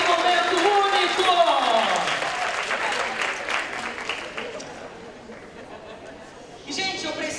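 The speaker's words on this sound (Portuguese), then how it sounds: "mais palmas para Alessandro e pro Vicente" An audience at a corporate HR conference in Rio applauds steadily with mixed cheering and voices. The clapping fades slightly, then swells again at the end.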